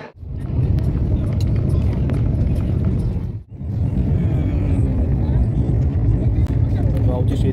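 A Vande Bharat Express train pulls out of Khed station on the Mumbai to Goa line, giving a loud, steady rumble heard from inside the coach, with one brief dip partway through before the roar resumes.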